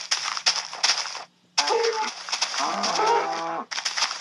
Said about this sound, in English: I'm gonna go kill these other cows.